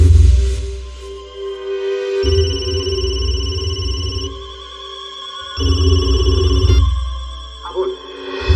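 Mobile phone ringing with an incoming call, a repeated electronic ringtone in bursts with pauses between, fairly loud and close over a low background hum.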